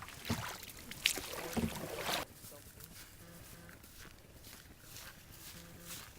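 Paddles splash and dip alongside a boat on the water, a few louder strokes early on giving way to quieter rhythmic sloshing, with voices talking over it.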